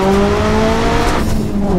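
A car corners hard on old Toyo R888 tyres along a road, with its engine droning steadily and loud tyre squeal and skidding running continuously throughout.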